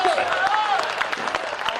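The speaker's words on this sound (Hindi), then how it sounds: "तालियां कमजोर हैं" Audience applause at a Hindi comic poetry recital in Bhopal: a brief, steady patter of clapping from the crowd, heard under a voice reciting.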